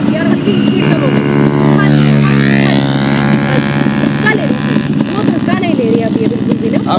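A Yamaha RX two-stroke motorcycle runs at speed, its engine note rising and falling in a strong harmonic buzz close by, with wind noise and a voice speaking over it.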